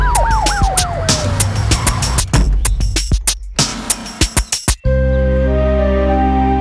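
A wailing ambulance siren sweeps up and down at the start of a children's cartoon story scene, fading under other loud clatter and thumps before a steady humming tone takes over.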